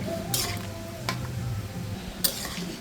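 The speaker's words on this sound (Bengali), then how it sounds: "ফুটে উঠেছে, একটু নেড়ে ছেড়ে দিচ্ছি" A spoon scrapes and knocks against a pot of boiling chana dal in a few sharp, fairly quiet strokes over a soft bubbling simmer, with no talking.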